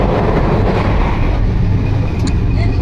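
Dhumketu Express passenger train running on an Eid journey, a loud, steady rumble and rattle heard from inside the carriage with no clear voices.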